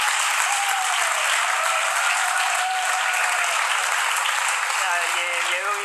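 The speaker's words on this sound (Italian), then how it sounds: "sempre l'applauso" Studio audience applause on an Italian comedy show, a dense steady wash of many hands clapping throughout, with a faint voice speaking underneath.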